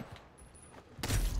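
Brief burst of gunfire from Call of Duty: Modern Warfare, a sharp loud blast in the last half second after a quieter stretch.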